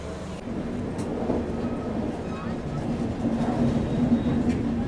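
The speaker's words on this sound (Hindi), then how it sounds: "10:05 में हमारी ट्रेन निकल चुकी है लखनऊ चारबाग रेलवे स्टेशन से।" Lucknow Mail departing Lucknow Charbagh railway station, a steady low rumble and rolling hum of the moving train with a faint tonal whine, continuous and fairly close, with some background voices.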